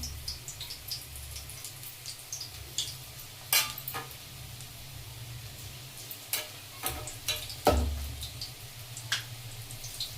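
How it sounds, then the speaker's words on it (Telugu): Spinach pakodi batter frying in hot oil in a kadai, a soft steady sizzle with scattered crackles and a few sharper clinks as small portions drop in, no talk. "ఇప్పుడు కడాయి పెట్టుకొని నూనె వేడి చేసుకున్నాను. కలుపుకున్న పిండిని ఇలా చిన్న చిన్నగా తీసుకుంటూ చిన్న చిన్నగా వేసుకోవాలి."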